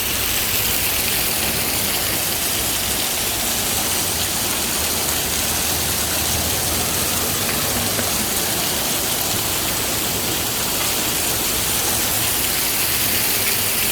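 Heavy rain pours down steadily over the centre of Itapajé, a dense unbroken roar of water spread across the whole clip with no pauses.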